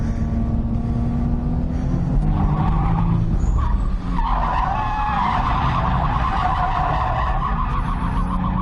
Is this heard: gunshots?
no